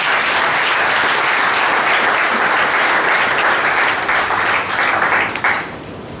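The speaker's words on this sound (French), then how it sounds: "est-ce que nous pouvions les applaudir, s'il vous plaît?" Wedding guests at an official marriage ceremony applaud the couple in loud, continuous, dense clapping that fades out near the end.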